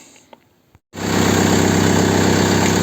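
A Renault Laguna 2 with a 1.9 dCi diesel engine starts up in a garage after a few faint clicks and then idles loudly and steadily close by.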